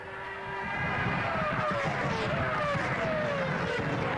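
Formula One cars racing at the 2003 Spanish Grand Prix, a loud engine whine swelling in as cars pass, with rising and falling pitch sweeps of several cars overlapping throughout and no talk.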